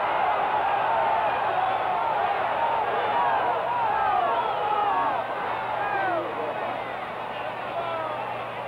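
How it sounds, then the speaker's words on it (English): Stadium crowd at the 1962 AFL Championship football game between Houston and Dallas, a dense, continuous roar of yelling and cheering voices that holds steady and loud throughout, with overlapping shouts. "the crowd yelling"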